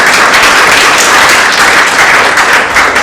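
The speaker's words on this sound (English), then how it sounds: "So please give him another round of applause." A large audience applauding at a business meeting, dense, continuous and loud clapping that holds steady throughout with no talk over it.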